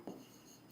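A short, quiet scratch of chalk writing on a classroom board, one brief stroke followed by faint room hiss.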